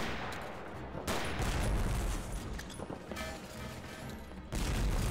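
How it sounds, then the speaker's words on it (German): Gunfire from the online shooter Warrock on the Bazaar map: dense bursts and scattered shots run throughout, loud with a steady background roar and sharp cracks. "hier wird geschossen"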